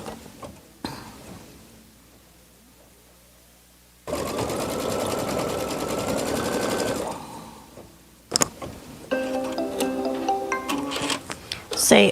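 A Brother Luminaire embroidery machine sewing in bursts: a steady mechanical whir for a few seconds, a pause, then a busier stitching run with clicks, with a person talking around it.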